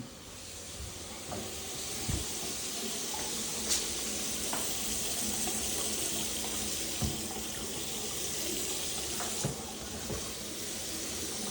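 Water runs steadily from a faucet with a constant hissing stream, punctuated by a few soft clunks and knocks.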